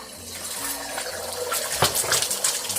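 Eggs pour into about three tablespoons of hot oil in a pan while making ham fried rice, giving a rising, bubbly sizzle that grows louder and crackles near the end, with no talking.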